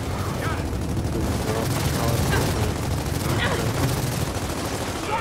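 Rapid gunfire crackles through a co-op session of the video game Gears of War 4 on Xbox One, dense bursts and shots layered over game noise, with players chattering over the action.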